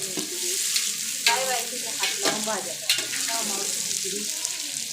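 Onions and tomatoes for chicken biryani fry over a wood-fired stove, giving a loud, steady sizzle broken by several stirring scrapes and clatters.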